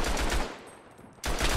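Gunfire in the World War I video game Tannenberg, with a dense rapid burst of shots, a short lull, then another loud automatic burst, close and with no talk.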